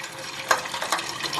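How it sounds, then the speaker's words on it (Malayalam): Hot water being poured gives a soft, steady hissing stream with a few faint bright clinks, heard close and quiet with no talk. "ഞാൻ ചൂടുവെള്ളം ഒഴിക്കുന്നുണ്ട്"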